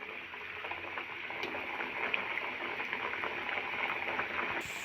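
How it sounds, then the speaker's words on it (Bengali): Mung dal bakul pitha cakes frying in hot oil, a soft steady bubbling and crackle throughout, fairly quiet and alone without talk. "বাকিগুলো আমি একইভাবে ভেজে নেব।"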